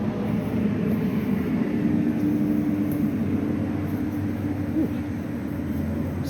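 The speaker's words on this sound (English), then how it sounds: "Sorry about the plane, but it's that time of the day." An airplane passes overhead above a summer garden, heard as a steady low broadband roar and hum that fills the whole stretch at moderate loudness, with no talking.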